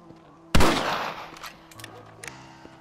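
A single loud rifle shot rings out in the Red Dead Redemption western video game, a sharp blast at close range followed by a fading echo and faint game ambience with small clicks.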